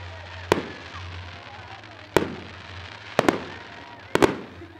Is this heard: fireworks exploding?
yes